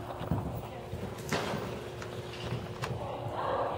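A horse cantering during a jumping session, its hooves clip-clopping in a steady rhythm at moderate distance while a person chants over it.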